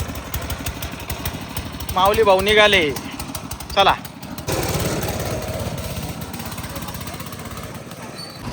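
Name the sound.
tractor engine running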